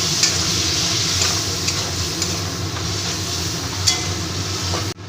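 Potatoes and spices for a papaya, potato and prawn ghonto are stir-fried in a pan with a little water, giving a loud, steady sizzle broken by scraping stirs and a few sharp clinks.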